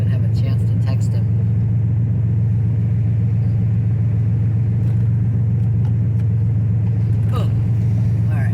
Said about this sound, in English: as loud as this car is, he might even hear me pull up